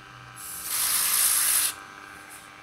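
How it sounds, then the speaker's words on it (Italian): Contact cleaner sprays onto the contacts of a 1964 Voxson Zephyr radio, one steady hissing burst of about a second, close and clear, ending with a small click and no talk. "vediamo se lo spray pulisce i contatti."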